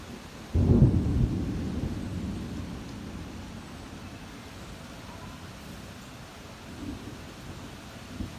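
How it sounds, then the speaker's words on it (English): Thunderstorm heard from a back deck: a deep thunder rumble breaks in early, rolls and slowly fades under steady rain-like hiss, with a faint second rumble later. "Nice little thunderstorm brewing."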